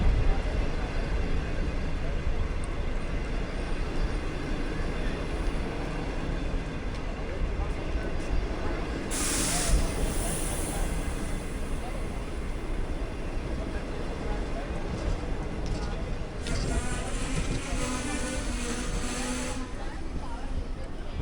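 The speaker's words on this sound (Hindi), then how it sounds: "बहुत ख़तरनाक इंजन है।" Diesel locomotive of the 6dn Greenline Express running with a steady, loud rumble throughout, with brief hiss-like bursts of noise partway through and near the end.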